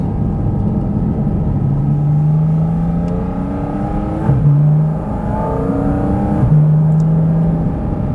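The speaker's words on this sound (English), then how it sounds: "I love the sounds that this car makes." A 2023 Porsche 718 Cayman GT4 RS engine revs and whirs continuously, pitch rising and falling through several gear changes with brief dips between, loud and close.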